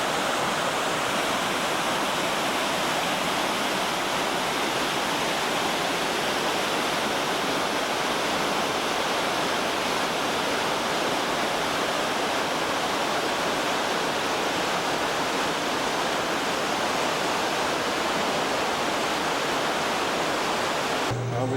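Water pours over big rocks at a waterfall, a steady, dense roar that stays loud and unbroken throughout, heard close with no other sounds standing out.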